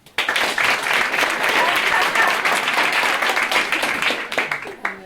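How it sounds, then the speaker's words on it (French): A comedy-show audience in Vevey bursts into loud, dense applause that holds steady for several seconds, then thins and tapers toward the end. "Qui ne me connaît pas, par applaudissement?"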